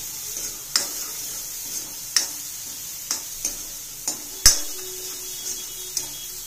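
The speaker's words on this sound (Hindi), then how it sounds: "मैंने डाल दिया अदरक लहसुन का पेस्ट" Ginger garlic paste frying in a pan, with a soft steady sizzle under a run of sharp utensil clicks and scrapes against the pan at irregular intervals as it is stirred.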